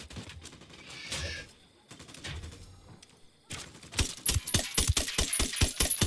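Pistol and sniper gunfire in the video game Ghost Recon Wildlands: scattered shots and clicks at first, then a rapid run of sharp, loud reports over the last couple of seconds.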